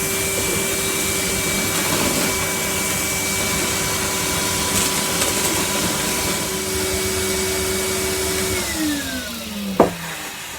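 A Henry vacuum cleaner runs steadily in a shed workshop with a constant whining drone, close and loud, then its pitch drops as it powers down near the end, with a brief bump.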